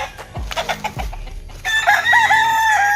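Close, loud clucking from several chickens, with a couple of dull thumps early on and a drawn-out squawking call toward the end.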